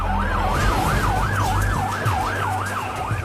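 Emergency vehicle siren wailing in a smooth, regular rising and falling sweep, loud and continuous over a low rumble of traffic, with no talking.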